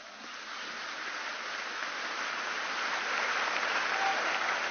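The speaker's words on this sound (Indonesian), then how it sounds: "Tepuk tangan untuk kita semua." An audience at an Islamic boarding school gathering in Gontor, Ponorogo, applauds in a dense, steady wash of clapping that holds at an even level throughout and swells slightly near the end.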